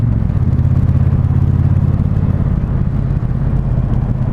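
A Triumph Bonneville Speedmaster motorcycle riding in second gear at about 40 km/h gives a steady, loud, close low engine rumble that holds evenly throughout, with no talk over it.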